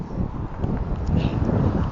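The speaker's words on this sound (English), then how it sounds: "It's getting stupid windy on this section of the road" Gusty wind buffeting a microphone on a road, a constant low roaring rumble with no talking.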